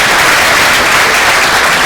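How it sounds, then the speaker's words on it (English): Steady, dense applause from an audience at a health innovation pitch and award event, loud and continuous throughout with no gaps. "So first of all, a great round of applause."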